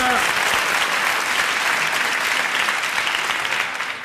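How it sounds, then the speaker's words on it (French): A television studio audience at a 1982 French game show breaks into loud, dense applause that holds steady for about four seconds before beginning to taper off. "vous avez applaudi Madame Vandenbroek, elle l'a bien mérité"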